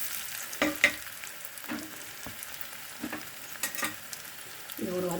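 Pepper, cumin, turmeric and grated coconut fry in a pan for rasam, giving a quiet, crackling sizzle with scattered spoon scrapes and stirring clatters, close and faint with no talk.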